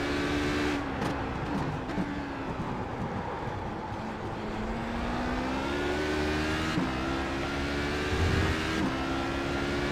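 A sustained LMP1 prototype race car engine in iRacing at Le Mans-style racing, loud and continuous with rising and shifting pitch as it slides past, an engine tone dominating throughout without speech.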